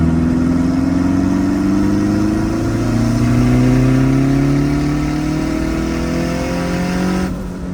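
Turbocharged K20-powered Honda Civic accelerating in fourth gear from 2800 RPM, a loud, close engine note with a steadily rising pitch that climbs smoothly for about seven seconds before easing off.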